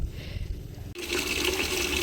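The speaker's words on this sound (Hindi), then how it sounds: "दोनों में गर्म पानी आ रहा है" Hot water gushes from hostel bathroom taps with the geysers switched on, a steady close rush of water that starts abruptly after a short, quieter stretch and then runs on without pause.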